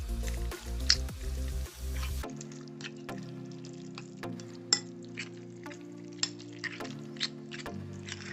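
Tuna melt filling of tuna and about a quarter cup of mayo being stirred in a bowl, giving soft, wet squishing and scraping strokes up close, with a brief louder thump near the start.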